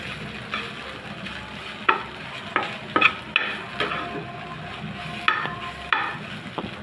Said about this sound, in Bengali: এখন আমি ভালো করে ভাজা ভাজা করে নিব।